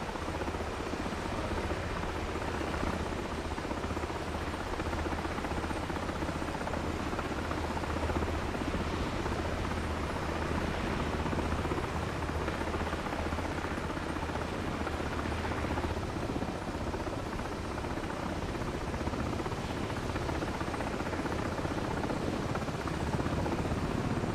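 MH-60 helicopter flying in a flight simulator game, a steady droning rotor and engine roar that holds constant and fairly loud throughout, with no talk.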